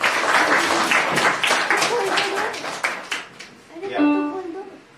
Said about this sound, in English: Please give her a great round of applause,